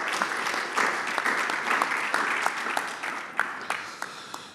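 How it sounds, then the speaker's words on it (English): Studio audience applauding in a steady round of clapping during a business television programme, dense and continuous throughout with sharper individual claps standing out. "Ladies and gentlemen, another round of applause for Carl."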